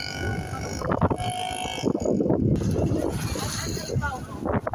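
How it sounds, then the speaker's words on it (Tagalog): Steady wind buffeting the microphone with a broad rushing roar, while people talk over it throughout. "sarap ng hangin"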